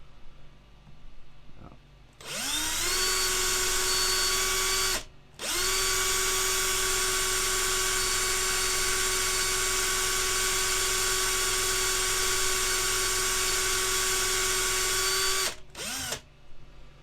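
A power drill whines loudly and steadily while pinning a 1/6 scale resin model kit, with a brief burst, a short pause, then a long continuous run before it stops and restarts briefly.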